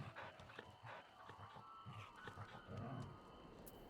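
A dog panting in the Final Fantasy XIV online game, quick soft rhythmic breaths with a faint whimpering edge, fairly quiet and close, with no talking over it.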